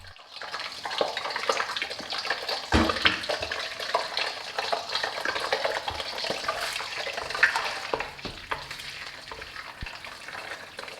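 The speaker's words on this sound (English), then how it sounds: "so I'm adding in 3 beaten eggs" Beaten eggs go into a hot pan of frying rice, a loud crackling sizzle with scraping and stirring that runs steadily up close, and no one talking.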